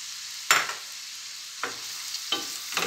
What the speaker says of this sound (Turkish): Hemen üzerine 2 diş sarımsağımı, 3 tane de doğradığım soğanlarımızı ekleyip şöyle güzelce bir kavuralım